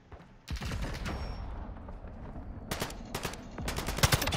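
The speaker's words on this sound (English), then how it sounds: "Oh shit, that's a sniper." Sniper fire in Call of Duty Warzone's Al Mazrah echoes as sharp, loud cracks, a first shot followed by several more reports near the end, with no talking.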